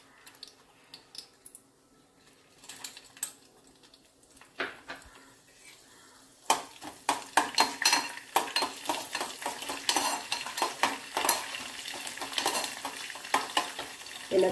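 Urad dal and mustard seeds fry in hot oil, quiet sizzling at first, then a burst of sharp crackling pops that keeps going alongside stirring clinks of a spoon against the pan; no talking.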